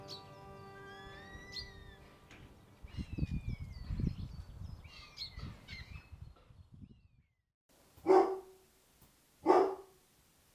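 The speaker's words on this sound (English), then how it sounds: "You'll have to excuse the dogs barking." Several dogs bark across the street, first a muffled, busy run of barks and yelps, then after a pause two loud, sharp single barks close by.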